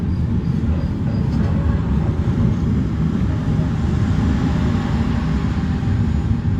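The Menoreh train passes at Cirebon Perujakan station, heard as a steady, loud low rumble of wheels on rail, continuous throughout with no break or talk.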